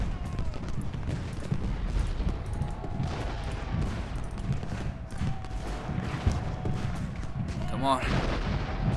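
Canister shot artillery booming in the Ultimate General: Gettysburg battle game, dense rolling cannon and musket fire with clattering hooves over sustained loud noise, a brief voice urging on.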